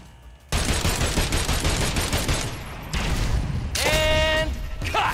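Video game gunfire from Agents of Mayhem comes in loud, dense rapid bursts with booming impacts, broken by a short pause, with electronic whining effects near the end.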